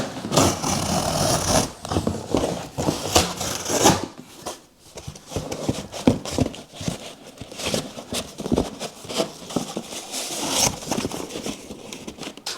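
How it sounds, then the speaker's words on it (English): A piece of cardboard being cut in a garage, with repeated close scraping and ripping strokes in an uneven rhythm, alone without talk. "the next thing is to cut yourself a bit of cardboard to protect your lift or your garage floor"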